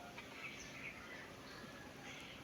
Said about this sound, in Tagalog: Kumakanta yung ibon eh.